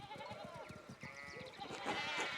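Sheep bleat repeatedly in the Pentiment video game, a rural flock scene with several overlapping calls, close and fairly loud, with a denser cluster of cries toward the end.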